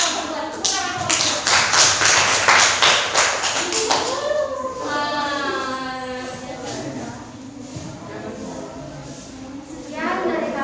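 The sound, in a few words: classroom applause for group 2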